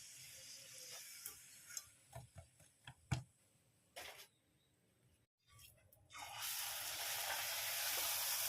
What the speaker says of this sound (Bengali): পুরি ভাজা হচ্ছে আমার